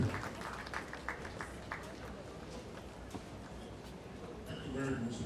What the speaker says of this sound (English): Can we sustain the applause for him to the next ladies and gentlemen?